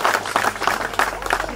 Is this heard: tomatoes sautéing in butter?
no